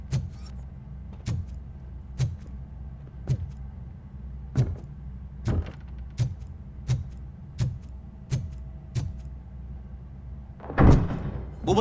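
Heavy metallic door mechanism in the RoboCop: Rogue City game, a series of sharp clanks and clicks at roughly regular intervals over a low engine-like hum, ending in a louder rattling, grinding burst.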